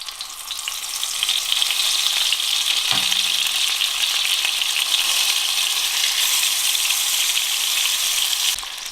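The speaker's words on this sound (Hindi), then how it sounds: "अब ये तेल गरम हो चुका है। अब इसमें हम ये बैंगन फ्राई" Eggplant fries in hot mustard oil in a pan with a loud, continuous hiss and crackle. A brief clunk sounds partway through, and the sizzle carries on steadily to the end.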